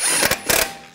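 Ratchet snugging down the lug bolts on a 2007-2013 BMW 328i wheel, two quick bursts of clicking pawl at close range with no voices.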